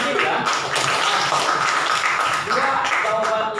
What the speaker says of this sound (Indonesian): kasih tepuk tangan buat Bapak ya